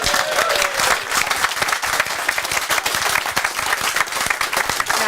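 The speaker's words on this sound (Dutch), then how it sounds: "Ik wil trouwens nog wel even een groot applaus voor al die vrijwilligers" Big studio audience applause for food bank volunteers at a televised charity finale, dense sustained clapping throughout with crowd noise.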